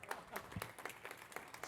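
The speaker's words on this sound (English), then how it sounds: "spontaneous applause." Scattered, faint handclaps from an audience, irregular and sparse, a few distinct claps spaced through a brief spell.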